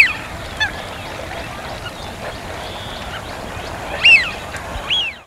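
Large flock of birds calling across winter mudflats and sandy shores, with goose-like honks scattered over a steady distant murmur and a few louder, nearer calls near the end.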